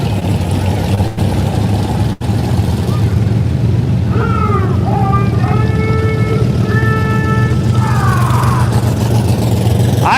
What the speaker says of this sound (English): Some fast trucks here tonight.